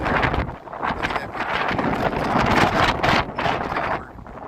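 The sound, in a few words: wind outdoors on a Chicago street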